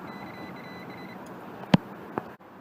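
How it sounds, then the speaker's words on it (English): A multimeter on continuity test gives short electronic beeps, one sharp tone followed by a fainter one, over a quiet room hum. "you can see that the multimeter beeps"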